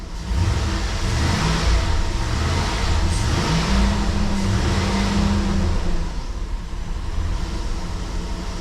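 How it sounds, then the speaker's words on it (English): A GM pickup truck engine revs steadily at close range, a sustained throaty roar that rises in pitch mid-clip and then settles back down. "Let's rev it up."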